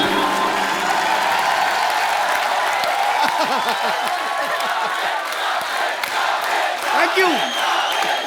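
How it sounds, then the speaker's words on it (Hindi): A TV comedy studio audience claps and cheers loudly for two celebrity guests, a dense, steady roar of applause with whoops, while voices talk over it. "जॉन और सोनाक्षी के लिए जोरदार तालियां।"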